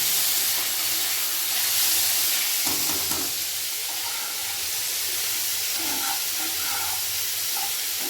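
Steady, loud sizzling hiss of chopped tomatoes and coriander frying in a pan for an American corn dish, continuous throughout with a few brief crackles and no speech.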